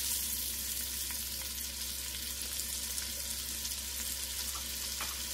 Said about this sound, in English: what we're going to do is start searing off our veggies